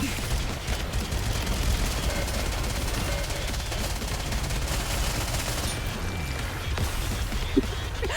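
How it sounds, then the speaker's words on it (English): Continuous heavy gunfire from the game Nikke, a dense, loud rattle of rapid shots filling the whole stretch with no pauses and no talk. "Commence firing"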